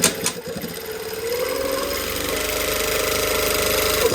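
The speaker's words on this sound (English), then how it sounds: "I like to sew a line of stitching through the elastic, stretching as I go" A sewing machine runs steadily, stitching a line through elastic on the back of a pair of shorts, a close, continuous mechanical hum with rapid needle rhythm after a brief start-up clatter.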